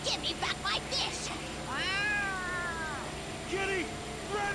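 A cat meows in the video game Yakuza: Like A Dragon, one long drawn-out meow followed by a shorter one, with bursts of other game noise and voice-like sounds around it.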